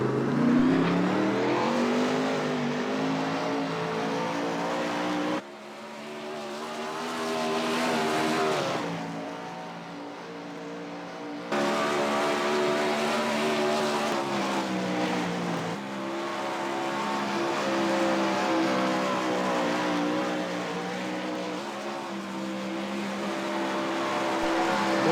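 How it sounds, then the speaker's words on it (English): A World of Outlaws race car at Charlotte on a qualifying lap, its engine roaring loud and steady with sweeping pitch rises and falls as it powers through the corners and down the straights. "I'm taking off for a qualifying lap."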